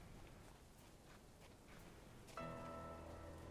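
Rain falling in a Halo 3 mod, a soft steady hiss of drops pattering on surfaces, faint and continuous, with the wash thickening and a low ambient hum joining partway through.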